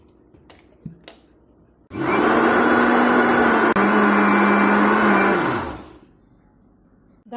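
A mixer grinder blends chocolate cake batter in a loud continuous whir lasting about four seconds, starting abruptly and winding down, with faint knocks of handling before it begins.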